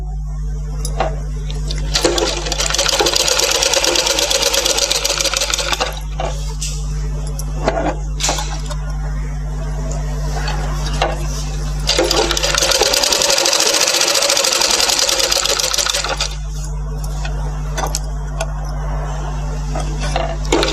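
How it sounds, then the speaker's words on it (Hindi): A tailoring sewing machine stitches fabric for blouse piping in bursts of steady mechanical whirring, running in several long stretches separated by short pauses, loud and close with a constant low hum beneath. "धीरे धीरे ये कपड़ा घुमा के फिर उस पर से हम सिलाई डालेंगे"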